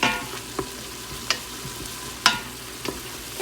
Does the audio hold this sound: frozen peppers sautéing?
yes